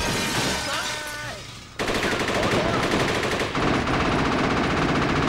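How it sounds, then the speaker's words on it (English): Sustained automatic machine-gun fire from the Jet Li Rise to Honor video game, dense rapid bursts filling the clip, loud and continuous after a brief quieter lead-in with some game sound. "Oh, they all got machine guns."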